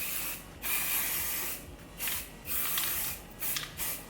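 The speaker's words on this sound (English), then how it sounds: "So first I take Kevin Murphy Light Flexible Hairspray, and I'm just gonna spray my hair all over" Kevin Murphy Light Flexible Hairspray misted over hair in several close hissing bursts of about a second each, separated by short pauses, with no talking.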